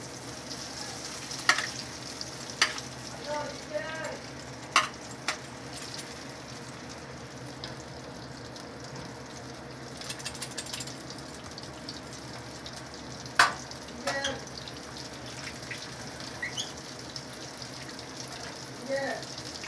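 Butter melting and frying in a pot as it is stirred, a soft continuous sizzle with scattered clinks and scrapes of a utensil against the pot, fairly quiet and close.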